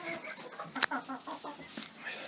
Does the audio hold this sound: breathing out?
no